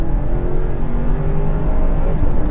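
A 4x4 car brake-boosted and launched from a standstill, its engine a loud, steady, rumbling drone that holds without pause.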